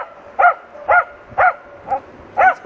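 A hunting dog barks at a fox in an artificial den during a working test, five sharp, evenly spaced barks about half a second apart, close and loud.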